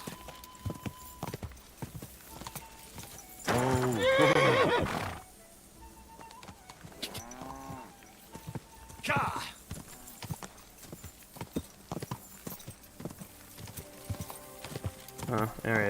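Horse in Kingdom Come Deliverance II neighing loudly with harmonic whinnies, alongside rapid hoof clip-clop of a fast gallop, with a player talking over it.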